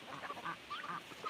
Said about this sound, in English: Crazy birds this morning.